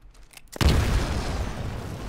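A grenade blasts in a Titanfall tutorial after a few faint clicks, one sudden loud boom that rolls into a long, dense rumbling decay, with no voices.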